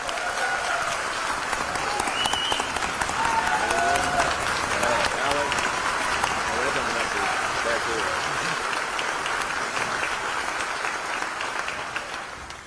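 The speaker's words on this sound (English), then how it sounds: "We just all need to give her a standing ovation on that." A crowd gives a standing ovation at a hotel and casino event, sustained dense clapping with some cheering, loud and steady for several seconds before easing slightly at the end.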